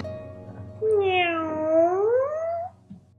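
A kitten gives a single drawn-out meow, rising then falling over about two seconds, close and clear above a low background hum.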